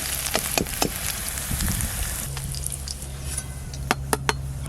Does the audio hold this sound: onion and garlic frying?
yes